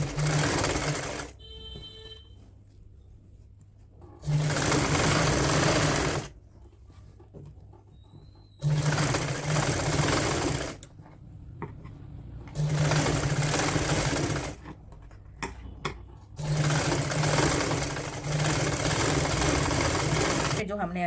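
Sewing machine stitching along the neckline facing of a woolen kurti, running in five loud bursts of several seconds each separated by quieter pauses with faint handling noise and some background sound.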